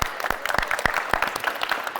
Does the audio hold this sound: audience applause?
yes